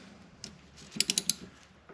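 A metal brake line fitting is threaded back in by hand on a 2015 BMW Mini Cooper D brake system. A soft shuffle is followed by a quick run of four small, close ticking clicks.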